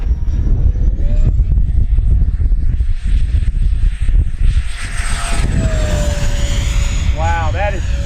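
A JP Hobby 70mm all-metal EDF jet model plane flies past with a loud, steady rushing roar and a high turbine-like whine that slowly shifts in pitch, near and continuous throughout.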